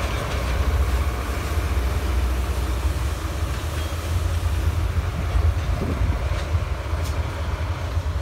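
Diesel locomotive DD 511 137 hauls a stone freight train, with a deep, steady engine rumble and the rolling noise of wagons on rails, close and continuous throughout.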